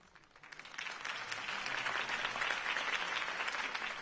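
Applause swells quickly from a few claps into a dense, steady wash of clapping from a large crowd at a political campaign speech, sustained and fairly loud.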